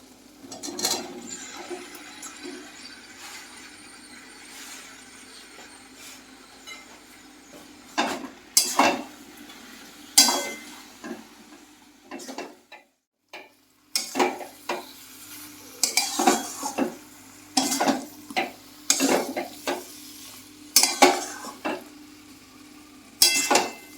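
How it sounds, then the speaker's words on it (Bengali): Mushrooms sautéed in oil and masala for a Bengali mushroom masala, a low sizzle broken by repeated loud metal spatula clanks and scrapes against the pan, irregular and close, with a short silent gap midway. "এবার আমি আস্তে আস্তে এর মধ্যে মাশরুমগুলো ঢেলে দেবো মাশরুমগুলো দিয়ে এবার কষিয়ে নেবো"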